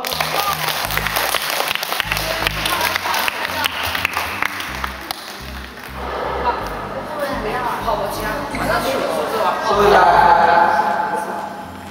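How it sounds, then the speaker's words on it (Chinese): Applause at a weight-loss camp, moderate clapping that swells toward the end, mixed with background music and some talking. "掌声"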